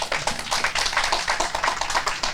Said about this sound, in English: To Kieran York and your staff, you can give them a round of applause.